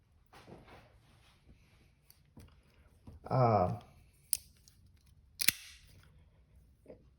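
A few crisp snipping and clicking sounds from scissors, close by, with a brief rustle in between and quiet room noise around them.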